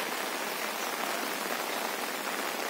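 Rain falls steadily in a Himalayan park at Kufri, an even soft hiss of drops with no voices.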